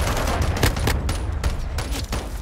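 Sustained gunfire in the Call of Duty Modern Warfare II beta multiplayer, dense overlapping shots and bursts in quick succession, loud and continuous throughout without pause.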